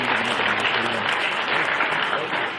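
Audience applause at a live book release ceremony where shawls are presented to guests, a continuous, even wash of clapping from a sizeable crowd lasting throughout.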